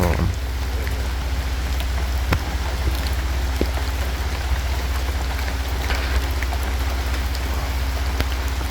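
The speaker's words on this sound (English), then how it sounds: "And it's raining." Steady rain falls in the Cloud Forest Sanctuary rainforest in Hawaii, a constant dense hiss of drops on leaves and ground, close and even throughout, with an occasional louder drip.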